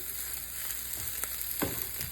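Egg with bamboo shoot frying in a pan: a quiet, steady sizzle close by, broken by a few soft scraping stirs near the end, with no voices.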